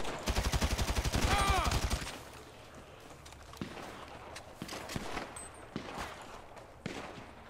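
Rapid bursts of gunfire from a drug-trafficker roleplay video game, dense and loud for about two seconds, then sparse single distant shots with quiet ambience in between.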